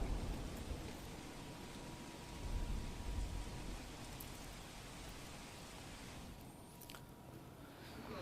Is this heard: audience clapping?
no